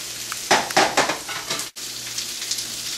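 Tilapia frying in a hot pan for a Goan fish curry, giving a close, steady sizzle, with a few bursts of clattering as the fish is moved and turned.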